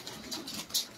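A champion Sharmeli Lakha pigeon kept in a coop gives a few soft, faint coos in quick succession, close by and alone with no talk.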